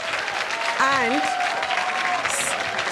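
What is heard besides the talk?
audience applause for Saif Ali Khan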